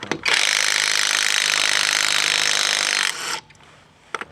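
AutoJare 20V battery impact driver running on a rusty, tight nut: a loud, steady whirring buzz for about three seconds, close up, then a short tail-off and a few faint clicks and knocks.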